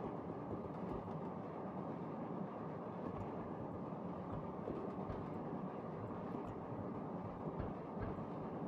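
A train rolls along in the video game Resident Evil Zero, giving a steady, dense low rumble that holds at an even level throughout with no talking.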